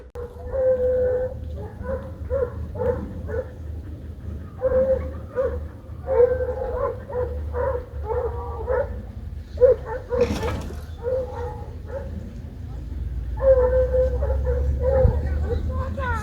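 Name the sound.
hunting dogs barking during wild boar hunt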